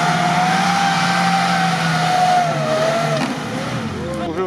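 A modified Lada Niva off-road car fitted with a Mercedes engine revs hard and loud at an off-road racing event, the engine note rising and holding steady before dropping away, with voices talking over it.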